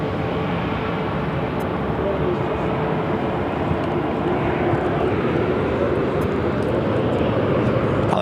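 An airliner takes off from Phoenix airport as a steady, broad jet roar fills the whole span, loud and unbroken, with a voice talking faintly beneath it.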